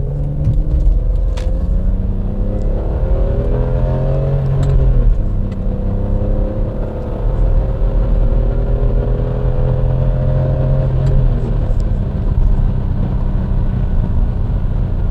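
A supercar engine revs and accelerates at half throttle in shift setting S4 through rising gear pulls, the drone climbing in pitch, dropping at shifts, then climbing again, loud and close.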